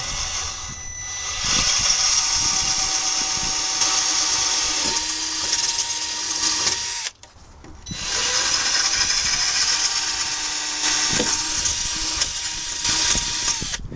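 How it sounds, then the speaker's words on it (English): A loud power drill runs in two long bursts, whining steadily with a brief pause between them, close by and with no voices. "So let's get drilling."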